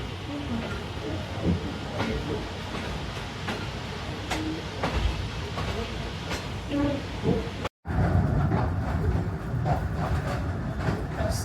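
Faiz Passenger train pulling out of Shri Rampura station on the Narowal to Lahore line, a steady rumble of rolling carriages with faint wheel clicks and hiss throughout, briefly cut before resuming.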